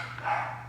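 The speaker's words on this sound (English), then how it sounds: "Excuse my dogs" A single short dog bark sounds from nearby indoors over a low steady electrical hum.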